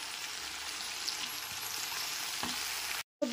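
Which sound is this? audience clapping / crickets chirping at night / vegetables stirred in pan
vegetables stirred in pan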